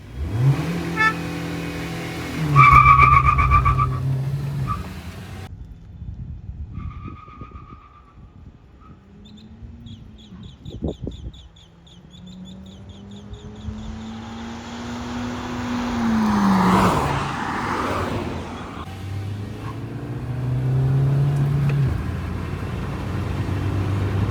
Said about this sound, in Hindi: तो भाई 3 ऑन पे करेंगे हम गाड़ी की रेस स्टार्ट।